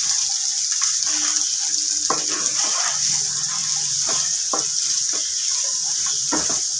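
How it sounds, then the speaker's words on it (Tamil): Chopped raw mango frying in oil in a pan, a constant bright sizzle with occasional stirring clinks and scrapes, close up and with no talking. "கட் பண்ணி வச்ச மாங்காவை சேர்த்துக்கிட்டு இதை நம்ம நல்லா எண்ணெயில் கலரி கொடுத்துக்கலாம்."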